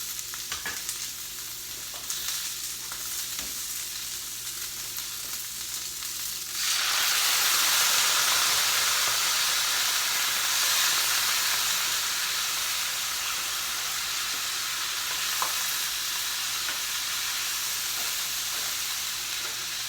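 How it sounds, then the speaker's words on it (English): Vegetables in a stir fry pan, with a quiet background hum that bursts into a loud, broad hiss and sizzle of steam once water goes in, then keeps sizzling steadily. "Add a little bit of water in order to allow the vegetables to steam a little bit, which is exactly what I'm going to do right now."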